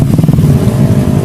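A motorcycle engine revs hard and close while stuck in deep mud on a forest track at Alas Roban, Central Java, giving a loud, throbbing, rising drone with a rough, pulsing edge.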